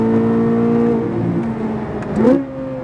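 A Chevrolet Corvette Z06 engine drones loudly on a race track from inside the car, holding a steady pitch, then dipping and rising sharply as the driver gets back on the throttle.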